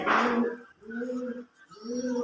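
After a brief rustle, a male pigeon gives low, throaty coos calling to a female, two drawn-out calls close by with a short pause between them.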